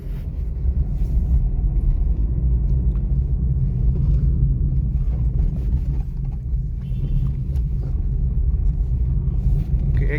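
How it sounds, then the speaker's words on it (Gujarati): A 2019 Maruti Suzuki Baleno Delta petrol car accelerates, heard from inside as a steady low engine and road rumble that holds fairly constant, with faint rattles and wind noise over it. "તમને એક્સેલરેશન અને બ્રેકિંગ પણ દેખાડી દઉં."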